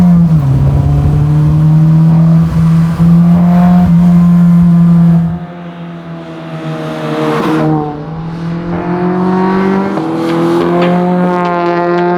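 A classic Mini fitted with a Type R engine revs hard under acceleration, a loud, close, rising engine note that drops at a gear change into third with a brief tire chirp, then climbs again.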